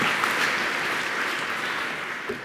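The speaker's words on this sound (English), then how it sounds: "A quick round of applause, please." Audience applause fills a conference hall at PyCon UK lightning talks, steady dense clapping from a crowd that holds at an even level throughout before tapering slightly at the end.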